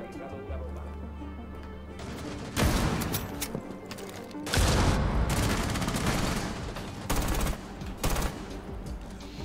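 Gunfire in Rainbow Six, with loud bursts of automatic shots and sharp cracks in several clusters, close and harsh, and a low hum underneath.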